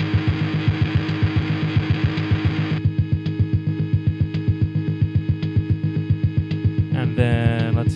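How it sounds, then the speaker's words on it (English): A buzzy, pulsing synth tone runs through gritty bit-crushed distortion, its rhythmic throbbing steady, then a brief higher glitchy flourish near the end. "A bit more subtle, supposed to be more of a bit crushing kind of distortion."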